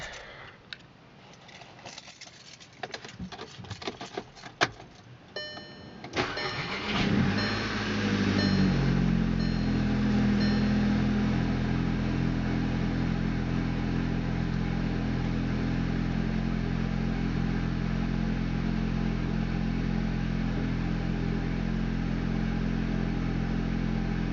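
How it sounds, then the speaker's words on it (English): A 2010 Volkswagen Jetta Wolfsburg Edition 2.0T engine cranks and catches after some clattering handling noise, then settles into a loud, steady rumble that swells briefly before holding even. "Just bring it outside so you can see it and do a little startup."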